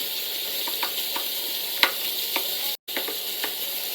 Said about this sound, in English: We're going to dump the bacon in, give it that nice char.